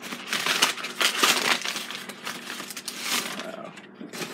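Crinkling wrapping from a prize mail parcel rustles and crackles steadily as an item, a small glass piece, is unwrapped close by, with busy, uneven paper noise throughout.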